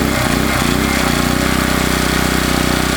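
WEN portable generator engine on its low setting, an even, close mechanical drone that settles after a brief change in load in the first second, with no speech.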